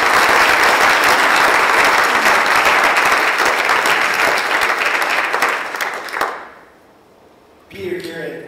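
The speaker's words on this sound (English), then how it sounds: "So let's give them a hand of applause." Loud, dense applause from a large audience at the closing session of the first Canada-Africa business summit, honoring its sponsors, sustained for about six seconds before cutting off, with a short burst of sound returning near the end.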